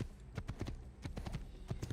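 Horse hooves clip-clop at a steady trotting rhythm in the Assassin's Creed video game, a string of close, even thuds lasting a couple of seconds with no talk.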